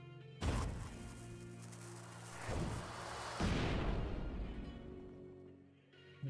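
Explosions in a shooter video game, several heavy booming blasts in a row with crashing debris and a rumbling tail, loud and close with no talking.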